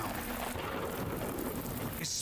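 Rain in the Deadly Premonition video game, a dense steady hiss of falling rain throughout, close and uniform, ending in a brief higher burst.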